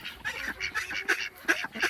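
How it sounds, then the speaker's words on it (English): A couple of geese honking in a snowy yard by a hen house, with repeated nasal honks in a quick, uneven rhythm, moderately close but fairly soft. "We have a couple of geese out here."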